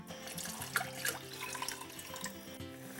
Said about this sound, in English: And to this, the mushroom water from earlier.